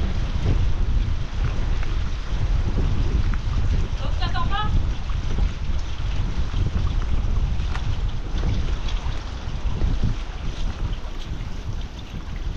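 Steady wind rushes and buffets the microphone over water and boat noise, continuous and fairly loud throughout.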